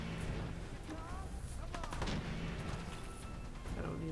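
Gunfire in the video game Fallout 4, a burst of dense, loud shots and impacts in the first half, under ongoing game noise and background music with a player's voice.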